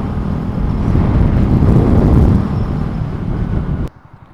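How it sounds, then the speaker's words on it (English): Strong wind buffets the microphone during a motorcycle ride in high winds through Lancaster County, Pennsylvania, a loud roaring rush that swells and then cuts off abruptly near the end. "That wind's been crazy."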